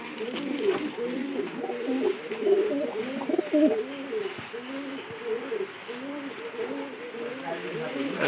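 Pigeons coo in a dense, continuous chorus at a busy market, where squab are being sold, with overlapping rhythmic calls near and far and people talking in the background throughout.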